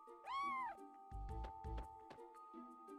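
A cat in the video game Chrono Cross gives one clear, rising-and-falling meow near the start, followed by a few soft thumping game sounds and a sustained background tone.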